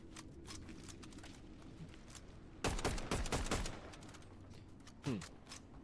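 Shotgun blasts in the battle game Fortnite burst out in a cluster of sharp, loud reports around the middle, with one more shot near the end, over steady game background noise.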